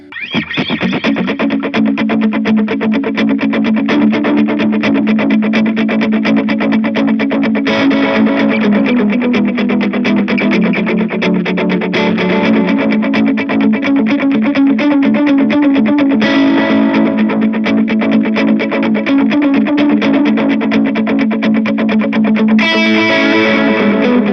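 Electric guitar with heavy effects, distortion and chorus, plays the verse of a song through a Line 6 Helix-style modeler, a dense, loud, continuous strummed part with steady chord changes and no voice.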